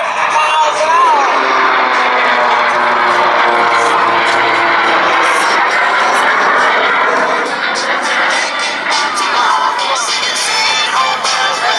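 Screamin Sasquatch jet-powered aircraft roaring past at an airshow at about 250 miles an hour, a loud sustained rushing jet roar filling the whole stretch, with crowd noise underneath.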